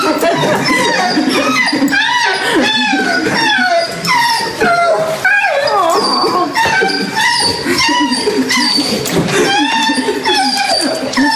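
A dog whimpers and yips in excitement as its owner returns home after nine months away at military training, high whining cries and short yelps repeating steadily and close up throughout.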